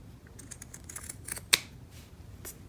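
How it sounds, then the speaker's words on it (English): Scissors snip through stitches on a quilted jacket in small quiet clicks, with one sharper cut standing out near the middle; no talking. "And cut these stitches as well."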